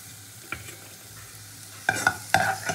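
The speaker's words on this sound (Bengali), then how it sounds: "বিনস মটরশুঁটিটা আমি হালকা করে ভেজে নিয়েছি, এবার তুলে নেবো" Beans and peas stirred in hot oil in a pan while cooking masala rice, with a low steady sizzle broken by a few sharp scraping stirs, the loudest bunched near the end.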